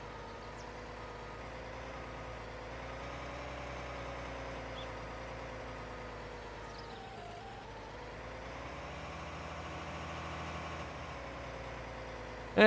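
Articulated tractor pulling a planter in the video game Farming Simulator 19, a steady droning engine hum that holds at a constant moderate level throughout, alone with no talk.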